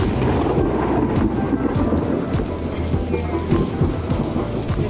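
Heavy rain pours steadily while low thunder rumbles underneath during a lightning storm at Jurong Lake Gardens park, Singapore, a dense, constant roar with no voices.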